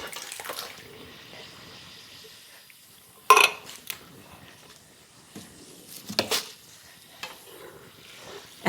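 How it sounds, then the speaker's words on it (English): Canned tomatoes poured into a frying pan and simmering, a faint bubbling hiss broken by a sudden splash and a few louder sloshing bursts, quiet between them. "I am going to put one of the cans of tomatoes in the frying pan to capture what is left on the bottom there"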